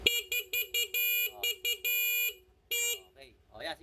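A loud electronic horn on a Honda Click V3 scooter honks in a run of short and longer blasts, a steady buzzy tone repeated about nine times, with brief talk at the end.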